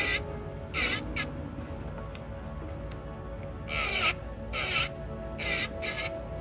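Electric nail drill grinding down hard gel on fingernails during a fill, with a steady motor whine broken by several short, harsh rasping bursts as the bit bites into the gel.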